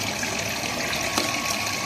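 Water is poured into a cooking pot holding tomato, green chili, garlic and onion, a continuous rushing, splashing pour at a steady level with no speech.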